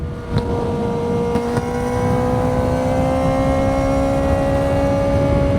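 A Kawasaki Ninja ZX-4RR motorcycle engine holds a loud, steady high-pitched rev close by, its tone climbing slowly and smoothly with no talking.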